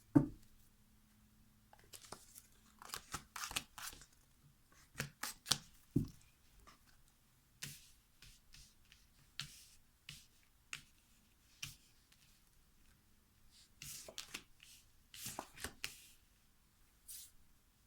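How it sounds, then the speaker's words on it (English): Tarot cards being shuffled in quick bursts of crisp riffling and tapping, with short pauses between rounds, close and fairly quiet. "That's our shuffle."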